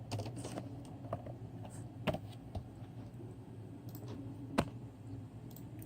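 Fingers tapping a computer keyboard while working in MATLAB, soft scattered keystrokes with a few sharper clicks, close but quiet over steady room hum, no voices.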